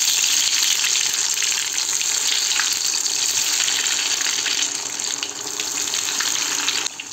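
Cheese bread rolls deep-fry in hot oil, producing a loud, continuous close-up sizzle and bubbling hiss that holds steady throughout with no talking.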